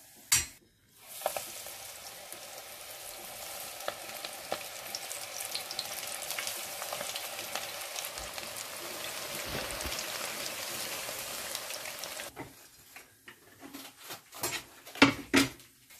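Potato and onion pakoras frying in oil make a continuous bubbling, crackling sizzle close by, with a few louder spatters and utensil knocks near the end as it thins out.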